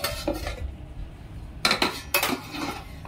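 A metal lid lifts off a cooking pot while stirring a mixed-lentil besan pitla, with several sharp clinks and scrapes of utensils against the pot, close and clear, no talking.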